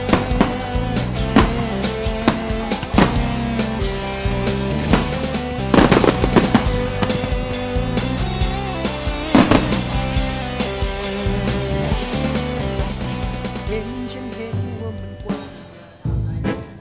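Rapid, crackling bursts and booming pops of fireworks go off continuously over a dense rumbling background, with several louder blasts standing out.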